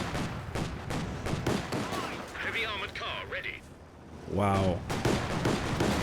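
Rapid bursts of tank cannon and machine-gun fire from a Panzer II in a tournament real-time strategy game, close and repeated under a commentator's excited voice.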